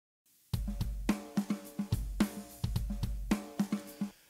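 A quiet percussion loop plays on its own: deep kick thumps and bright hits over shimmering tambourine and shaker, in a repeating groove with regular accents, treated with a touch of room reverb.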